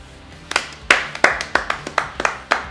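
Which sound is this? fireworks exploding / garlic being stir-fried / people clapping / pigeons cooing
people clapping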